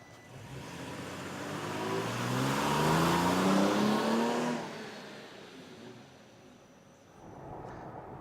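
A pickup truck fitted with a Sprint Booster throttle controller accelerates hard on a test drive, its engine rising in pitch through the gears to a loud peak, then easing off before revving up again.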